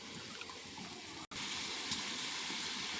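Water poured into a pan of frying fish, a steady rushing hiss and trickle that runs continuously and fairly loud, with a brief dropout partway through.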